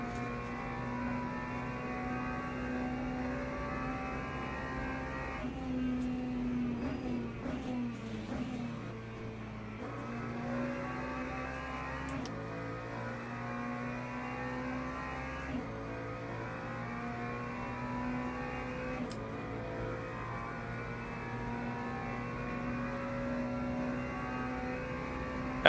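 Race car engines in the Le Mans Ultimate racing game, a sustained droning whine with shifting pitch as the car runs, gear changes marked by brief drops, steady and loud throughout.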